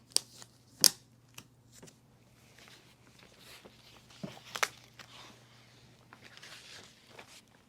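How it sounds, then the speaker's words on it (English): Someone unboxes a JVC RS3000 8K projector, with sharp scattered crinkles, snips and scrapes of cardboard and packing material over a low steady hum, occasional louder clicks and rustles at close range, and no talking. "let's go ahead and unbox it"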